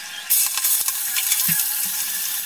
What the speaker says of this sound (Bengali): মাছের মাথাটা উল্টে পাল্টে ভালো করে ভেজে নিচ্ছি